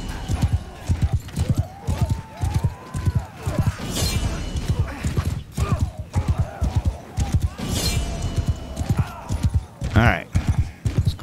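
Horses clip-clopping and galloping across a battlefield in Mount & Blade II: Bannerlord, a steady rhythmic patter of hooves with a brief whinny, running under near-continuous talk and scattered clashing game effects.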